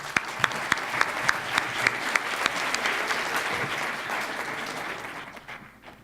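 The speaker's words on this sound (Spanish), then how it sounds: "para quien solicito un fuerte aplauso" An audience at a formal university intellectual property event gives strong applause for a division secretary, sharp claps at first merging into a dense, sustained round that fades out toward the end.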